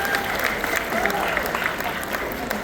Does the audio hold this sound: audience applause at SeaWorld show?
yes